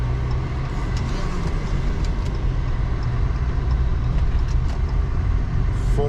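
A 2014 Jeep Cherokee Latitude accelerates at full power, heard from inside the cabin as a continuous, loud engine and road roar that holds steady for several seconds.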